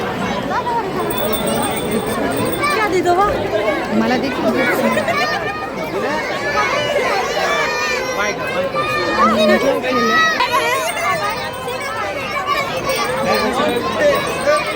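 Dense crowd chatter at a packed Christmas celebration with gift handouts, Santa Claus and a fair with bullock cart rides, a steady babble of many voices close around, with someone talking nearby over it.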